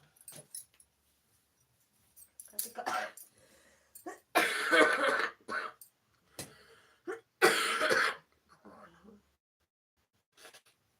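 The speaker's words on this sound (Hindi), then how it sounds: "बहुत खांसी आई इस यार" Several loud, raspy coughing fits break out close to the listener, with brief pauses between bursts and a bit of quiet voice around them.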